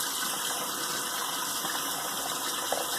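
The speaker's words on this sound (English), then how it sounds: "So I can rinse off and clean that blade." A safety razor blade is rinsed under a running tap, giving a steady, close, loud rush of water that continues evenly throughout.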